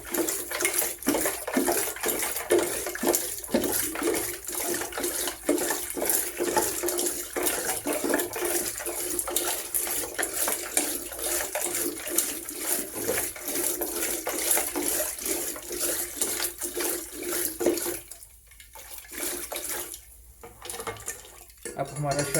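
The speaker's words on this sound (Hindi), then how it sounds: "अब ये अच्छी तरह से मिक्स हो रहा है और जो इसमें बर्फ़ हमने डाली थी वो भी अच्छी तरह से पानी में मिक्स हो जाएगी।" Sattu sharbat with ice and water being stirred in a vessel, a steady, loud clatter of utensil and ice against the container with sloshing liquid, continuous rhythmic strokes that pause briefly near the end.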